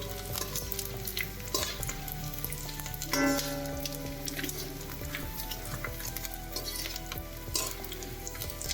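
Edible gum pieces fry in hot ghee while being stirred for a traditional Gujarati adadiya pak, giving a steady, dense sizzle and crackle with occasional louder pops and scraping stirs, close and continuous without talk.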